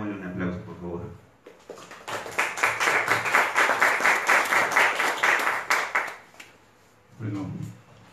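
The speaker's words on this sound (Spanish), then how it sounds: "Démosle un aplauso, por favor" At an international academic colloquium, the audience breaks into applause for about four seconds, a rising then fading wash of clapping, with someone speaking just before and just after.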